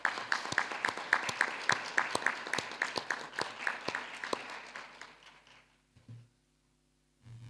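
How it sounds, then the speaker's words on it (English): Audience applauding senior citizens at a launch event, a steady round of claps that fades out after about five seconds, followed by a couple of faint knocks. "Join me, ladies and gentlemen, in giving our senior citizens, particularly those gathered here today, a deserved round of applause for the work that they have done."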